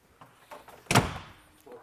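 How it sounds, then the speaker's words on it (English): A shed door at a workshop is heard nearby with a sharp bang or thunk mid-clip, surrounded by quieter shuffling and handling noises. "Let's go out the door that we never go out."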